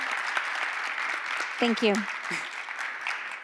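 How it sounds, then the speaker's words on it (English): An audience applauds for someone at a SevenDays OTHERS Day event: a steady wash of clapping throughout, with a brief spoken thanks partway through. "big round of applause"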